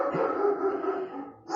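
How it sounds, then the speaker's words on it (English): A dog barks or whines indoors in the background during a chemistry lecture, one drawn-out tonal yelp that fades near the end, moderately loud with no talking over it. "barking in the background"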